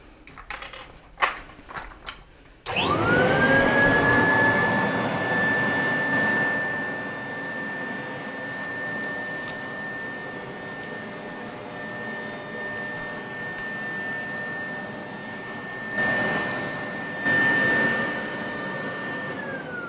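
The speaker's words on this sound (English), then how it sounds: "I'm going to turn on the vacuum here. This is a good old Kirby, nice strong suction, and it will shrink the latex." A Kirby vacuum cleaner draws a bag down over latex foam: a few knocks and clicks, then the motor switches on with a sharp rising whine that settles into a loud steady drone, dipping and surging near the end.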